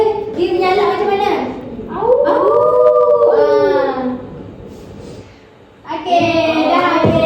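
Schoolchildren in a classroom lesson take turns imitating a wolf, giving long wavering howls that rise and fall, loud and close, with bursts of children's voices in between.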